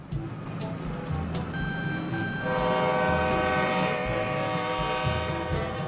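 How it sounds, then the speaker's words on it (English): A train horn in the railway game Rails Unlimited sounds in a long sustained blast that swells louder midway, over the steady rumble and clatter of a moving train. "How's the horn sound? Alright, the horn is nice."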